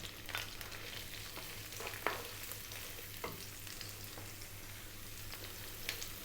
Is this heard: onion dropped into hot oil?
yes